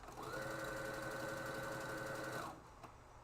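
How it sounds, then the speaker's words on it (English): A sewing machine stitches fabric at a steady, even whir for about two seconds, loud and close, then stops, leaving quiet room tone. "I'm gonna go ahead and sew the other side."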